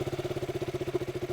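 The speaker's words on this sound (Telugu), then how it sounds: "ఒకసారి వెహికల్ స్టార్ట్ చేస్తున్న ఇంజిన్ బీటింగ్ చూసుకోండి" A KTM RC 200 motorcycle engine runs at a steady idle close by, with its even, rapid thumping beat holding a constant pace throughout and no voices over it.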